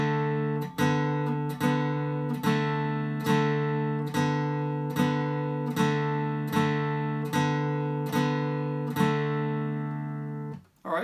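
Blues guitar chord repeatedly picked with alternating fingers on the 3rd and 4th strings, two strokes per finger, in a steady even rhythm of bright ringing notes, close and alone.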